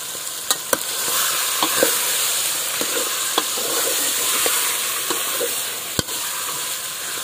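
Masala-coated food fries in hot oil in a pan, a steady loud sizzle broken by occasional sharp scraping taps of a spoon as the mix is stirred and tossed.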